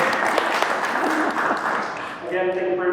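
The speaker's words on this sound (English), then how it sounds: "let's give him a round of applause" Audience applause at a journalism awards event, a steady broadband wash of many hands clapping that thins out toward the end as the clapping fades.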